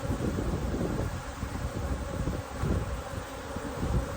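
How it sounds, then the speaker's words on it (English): Honeybees hum around a healthy hive as foragers return laden with fresh pollen, a dense continuous buzz close to the microphone with light wind noise and rustling. "Lots of the forager bees are just coming back. So there's a lot more bees."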